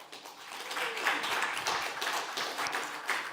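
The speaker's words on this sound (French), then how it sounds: "je vous demande d'applaudir" Audience applause at a deeptech startup pitch session, a steady wash of many hands clapping in a hall as a co-director is welcomed to the stage, with faint voices mixed in.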